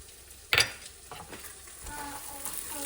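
Partly boiled goat trotters sautéed with spices in a pan give a sharp clatter of stirring near the start, then a low, steady sizzle with soft scraping, close by and with no voices.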